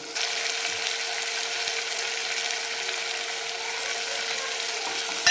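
A small country tomato sizzles steadily in a hot pan with a little salt, a continuous close hiss that stays even throughout and ends with a brief clatter.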